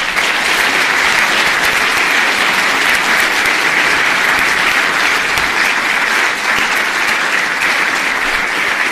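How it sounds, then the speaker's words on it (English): Sustained, steady applause from a convention audience at the Mayflower Hotel, a dense wash of many hands clapping at full volume without a break for the whole stretch. "I'm sure they'll watch the video and hear your applause later"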